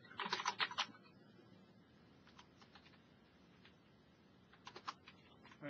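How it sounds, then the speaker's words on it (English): Someone types on a computer keyboard during an online meeting, a quick burst of key clicks followed by scattered, softer keystrokes in a quiet room. "Okay, so I can see what I'm typing."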